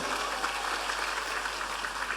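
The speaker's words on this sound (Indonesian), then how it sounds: "Tepuk tangan untuk Indonesia." Audience applause at an Indonesian religious lecture, a dense steady patter of many hands clapping throughout, moderately distant and even in level.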